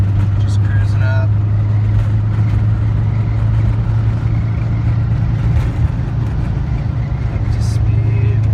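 A 1984 Volkswagen Vanagon Westfalia engine pulls in third gear while merging onto a highway, heard from inside as a loud, steady low drone under a person talking.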